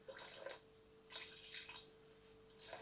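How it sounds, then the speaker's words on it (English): Water poured into a pot over browned lamb for a Moroccan lamb tagine: three short, close splashing pours with brief pauses between them, and no talking. "So add just enough water to cover the meat."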